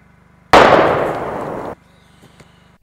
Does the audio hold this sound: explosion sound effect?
yes